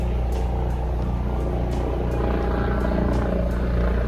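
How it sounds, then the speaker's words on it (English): A helicopter circles overhead in an urban Florida garden, its steady rotor drone and throb filling the air continuously with periodic blade pulses, fairly loud and unbroken throughout. "Now that helicopter keeps circling around here."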